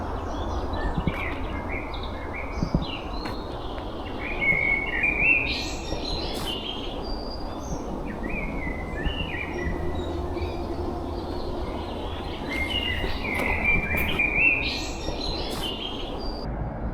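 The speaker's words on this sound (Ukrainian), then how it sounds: "А в лісі пташки співають." Birds chirp and sing in short bursts in a forest over a steady low rumble of distant traffic from a bypass road.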